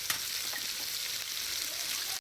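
Small pieces of meat fry hard in hot oil, giving a steady, close, loud hiss with crackling spatters throughout and no voices.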